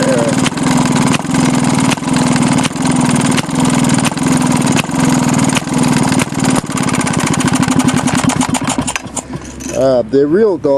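Maytag 92 engine, a small single-cylinder gas engine, runs with a loud, rapid chugging beat up close, its firing quickening before it sputters and dies near the end.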